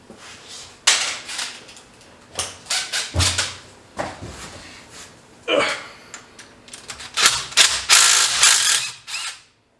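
Breaker bar with a 6-point socket straining on a stuck intake manifold bolt on a GMC engine, giving a run of loud metallic ratcheting clicks and clunks in uneven bursts, close up with no talk.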